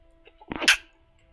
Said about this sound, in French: Ah, je devais éternuer.